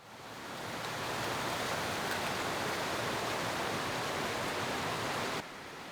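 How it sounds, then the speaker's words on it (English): Creek water rushes steadily and loudly during a crossing on a spring bear hunt in Idaho public land, a dense, continuous wash of flowing water with no voices. "That was just the creek we have to cross to get to the river."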